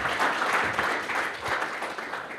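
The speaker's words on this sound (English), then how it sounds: "Can I get a quick round of applause for our debaters?" Audience applause at a policy debate greeting the debaters, a steady, dense clapping from a crowd that holds at an even level for the whole stretch with no voices.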